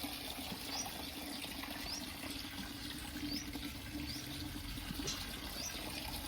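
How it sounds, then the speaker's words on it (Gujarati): Water runs steadily from a household tap into a container, a constant rushing hiss that fills the whole stretch without breaks, with faint chirps in the background. "હું પાણી ભરું છું"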